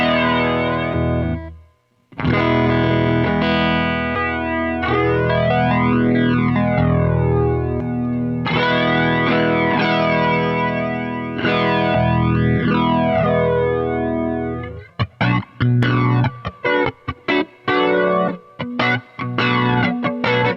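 Electric guitar played through Electric Mistress and Longamp Roxanne flanger pedals, sustained chords sweeping with a swooshing jet-like flange, switching between the two, then choppy staccato strums near the end, loud and alone.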